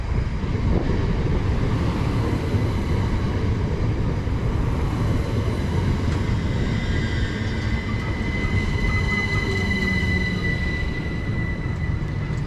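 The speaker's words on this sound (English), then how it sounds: "arriving in now is going to be the 1826 Great Northern service to Peterborough, 387206" A Class 387 Great Northern electric train pulls into a station platform on the East Coast Main Line, a loud continuous rumble of wheels and motors with rising whine tones and faint squeal as it slows.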